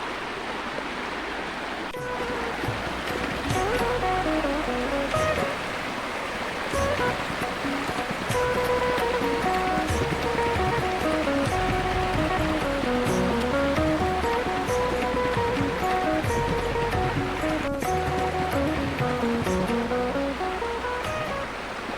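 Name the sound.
river water flowing after the first monsoon rain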